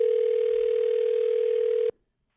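A telephone tone sounds as one steady, loud continuous hum for about two seconds, then cuts off abruptly into silence.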